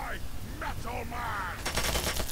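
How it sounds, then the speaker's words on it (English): Automatic turret firing in Fallout 3, a rapid burst of gunfire near the end following scattered game sounds and a voice, loud and close. "Oh, it's a turret."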